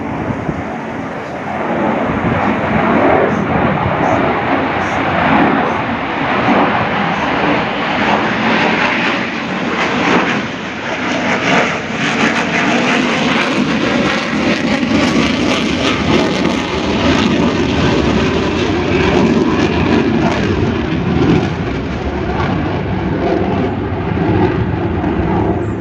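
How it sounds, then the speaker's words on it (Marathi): An airplane roars overhead on a rainy day, a loud, continuous engine drone that holds steady for the whole stretch, with wind buffeting the microphone and no talking. "या विमानाचा आवाजच लय डेंजर असतो"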